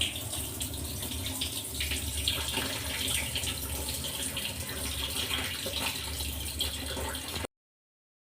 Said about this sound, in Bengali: বন্ধুরা ভাই লাউটাকে কি সুন্দর করে ধুয়ে নিচ্ছে